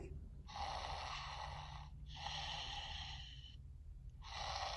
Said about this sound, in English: he's attached to this pillow and he snores and breathes